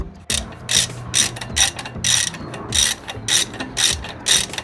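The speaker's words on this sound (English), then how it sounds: "So go ahead and put those in and then tighten it up." Hand ratchet tightening brake bolts on a Jeep Wrangler, loud close clicking in about ten evenly spaced bursts as the handle is swung back and forth.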